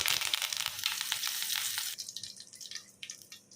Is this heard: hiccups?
no